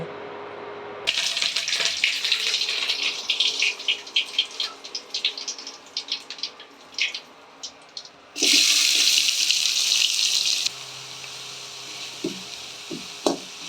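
Clinks and clatter from a kitchen, then a steady stream of water pours into a pot of mushroom curry for a couple of seconds, followed by more small knocks.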